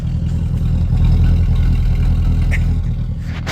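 Vera, an old Ford bought from Mission Ford and running with a small exhaust leak, idles steadily with a deep low rumble and some light clatter, heard up close with no talking.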